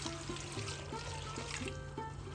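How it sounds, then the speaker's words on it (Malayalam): Water pours steadily into a pot for a moru curry made with drumstick and tomato, a faint continuous trickling stream with no talk. "ഇതിനകത്ത് കുറച്ച് വെള്ളവും കൂടെ ഒഴിച്ചു കൊടുക്കാം"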